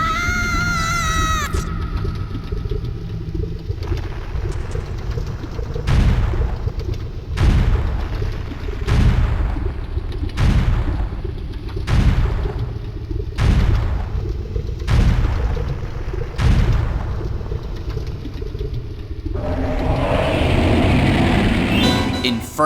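Bombs going off in Zelda: Ocarina of Time, a series of about ten heavy booming blasts at a regular pace, each with a low rumbling tail, bracketed by game music and effects.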